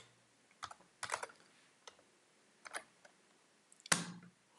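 Sparse keystrokes on a computer keyboard while writing a first Python program, heard as a few quiet isolated taps and short clusters of clicks against a near-silent background.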